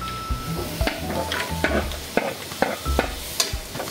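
Onion and garlic fry in a little oil for budget pork giniling, a soft sizzle under repeated scraping and tapping of a spatula against the pan, close and alone without talk.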